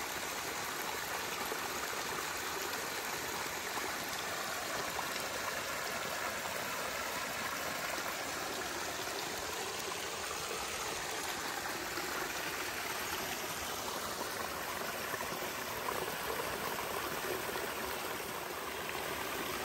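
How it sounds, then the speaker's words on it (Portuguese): A water stream flows on a mountain property with a dam, a steady close rushing and splashing wash that stays constant and fairly loud throughout, with no talk. "Olha aqui a água para você acompanhar."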